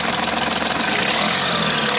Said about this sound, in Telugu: అలాగే యాక్సిలేటర్ ఇస్తున్నా చూడొచ్చు